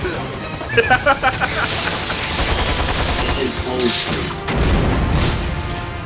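A plasma grenade goes off in a multiplayer video game match, a muffled blast and crash standing out among scattered gunfire and game noise, with players talking over the action.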